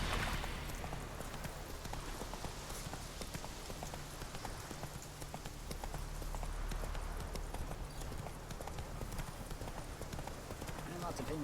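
Horse Roach's hooves clip-clop steadily in The Witcher 3 at an in-game Forefather's Eve, a continuous trotting rhythm under a voice talking throughout.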